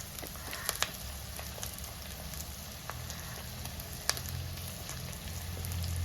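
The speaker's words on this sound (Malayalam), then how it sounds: "ചെറിയ ഉള്ളി ചേർക്കുന്നതിനോടൊപ്പം തന്നെ നമുക്ക് സവോള അരിഞ്ഞു വെച്ചിരിക്കുന്നത് ചേർത്ത് കൊടുക്കാം." Chopped onions sizzle faintly in a pan of oil alongside small onions, a steady low crackle dotted with scattered pops and spits, quiet and close with no voices.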